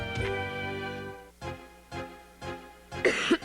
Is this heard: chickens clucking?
no